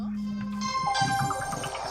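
A work phone rings with a steady electronic ringtone, bright repeating tones that sit close and clear with no talk over them.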